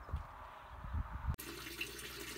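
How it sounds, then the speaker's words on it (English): Steady running water from pumps splashes and trickles continuously into an aquaponics grow bed filled with hydroton clay pebbles, with a brief click partway through and no voices. "Now we have our water pumps running into our grow bed with all the hydroton in it."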